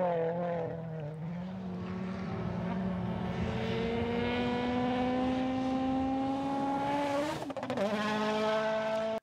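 WRC rally car at full attack approaches with a rising engine howl, holds a long climbing note, then snaps through a gear change and carries on loudly past the listener.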